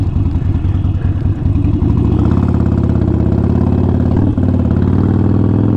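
An Indian Challenger motorcycle engine runs close by, a steady low rumble with mechanical clatter, rising slightly in pitch partway through and holding a constant throb to the end.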